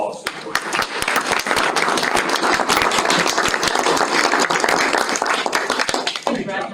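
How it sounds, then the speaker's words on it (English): An audience at a Montgomery County Board of County Commissioners meeting applauds Joyce, a dense, steady round of clapping lasting several seconds before tapering off at the end. "So please join me in giving a round of applause to Joyce."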